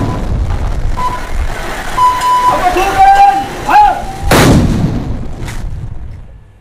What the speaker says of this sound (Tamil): தேசிய சுதந்திர தின விழாவில் சம்பிரதாயபூர்வமாக இடம்பெறும் 21 பீரங்கி வேட்டுக்களை தீர்க்கும் நிகழ்வு காலிமுக திடலில் இடம்பெற்றது.